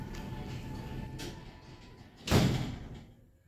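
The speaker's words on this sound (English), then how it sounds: "Please mind the doors. Doors closing." Oakland (Mod. Tec) hydraulic elevator doors at Matalan, Southampton, slide shut and close with a single firm thud near the end, after a brief quiet rumble.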